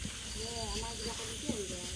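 A monocled cobra hisses in a steady, breathy rush during a village snake rescue, close and continuous beneath a faint voice for about two seconds.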